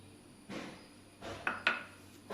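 Hair dye paste being stirred in a bowl, giving a few soft scraping strokes and two sharper clinks of the utensil against the bowl, close and fairly quiet with no talk.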